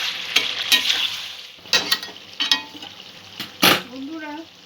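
Spiced chicken fried in a pan and stirred, with a soft sizzle under close scraping strokes of a spoon. The strokes come in several irregular bursts, and a brief voice is heard near the end.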